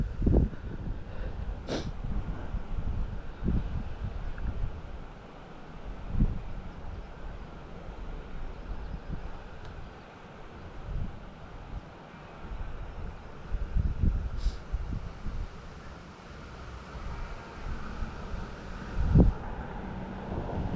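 Wind buffets a microphone outdoors during a DJI Mini 3 Pro drone flight, a continuous rough low roar with uneven gusts and occasional thumps, moderately loud and without talk.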